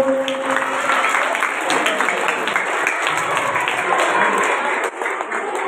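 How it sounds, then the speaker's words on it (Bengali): Students clap at a school annual programme, a dense, continuous patter of many hands that stays loud and even throughout, with a voice audible underneath. "ছেলেরা হাততালি দাও"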